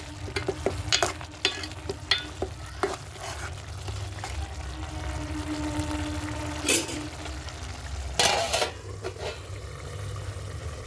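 Tomato masala fries in a pot over a firewood stove while a spoon stirs it, giving soft sizzling under repeated scraping strokes and a couple of louder clattering bursts.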